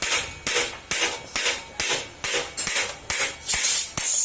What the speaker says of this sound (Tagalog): kailangan natin siyang pagpoy ng martilyo para lumabas kasi masikip